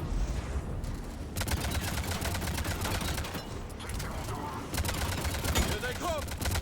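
Heavy, continuous gunfire fills a battle in Mass Effect Legendary Edition: dense automatic bursts and rattling shots overlap loudly throughout, with brief dips, under a constant din of combat noise.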